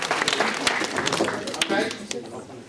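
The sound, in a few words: audience clapping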